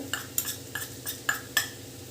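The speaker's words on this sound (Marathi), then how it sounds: "त्या बेसन पिठातच दोन चमचे मी शेंगदाण्याचं कूट घेत आहे हे थोडंसं मिक्स करून घ्यायचं आहे आपल्याला एकत्र" A spoon stirs besan flour with a couple of spoonfuls of crushed peanut powder in a bowl, a series of about six short, sharp scraping clicks at uneven intervals, close and fairly quiet.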